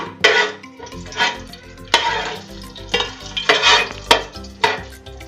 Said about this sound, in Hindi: गरम मसाला फ्राई हो गया है।